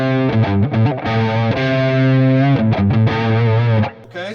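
Overdriven electric guitar blues lick with sustained bent notes cut off abruptly to leave gaps of space, played loud and close in a short phrase without any speech.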